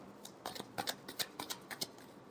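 Tarot cards are shuffled faintly in a quick run of about a dozen soft, evenly spaced flicks and slaps, close up, with no talk.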